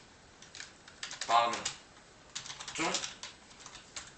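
Someone types C++ code for a beginner calculator program on a computer keyboard in Visual Studio Code, with quick clusters of key clacks in two bursts while someone speaks French.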